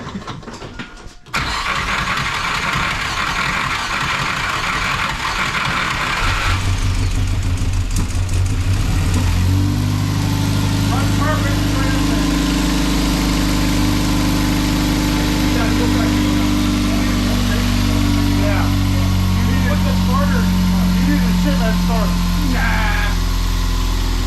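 An Ecoboost turbo engine swapped into a Foxbody Mustang cranks and catches, then settles into a loud, steady, close-up run with droning tones, while people talk over it.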